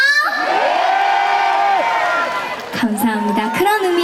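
A festival crowd at the Imsil N Cheese Festival cheers, shouts and whoops in sustained, fairly loud bursts of voices. Clapping is not clearly picked out.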